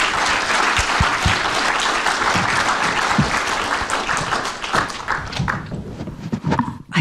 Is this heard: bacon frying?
no